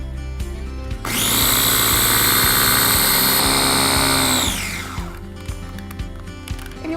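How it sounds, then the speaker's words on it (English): A blender whirs loudly and steadily for about four seconds, puréeing a meatloaf sauce with dates, then winds down to a stop, with light kitchen clatter before and after. "Pop that lid on there and blend it up."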